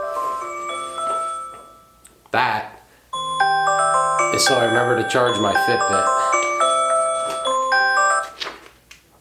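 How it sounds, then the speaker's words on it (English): A repeating electronic chime alarm rings out in bright, layered tones, starting after a person speaks and continuing loudly for several seconds. "and there goes my alarm."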